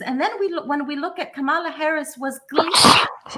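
A single loud sneeze bursts out near the end, right after a stretch of steady male speech about election politics during a live news broadcast.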